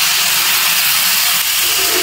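Coconut milk pours into a hot pan of young green jackfruit being fried for a vegetarian curry, setting off a loud, steady sizzling hiss that holds unbroken throughout.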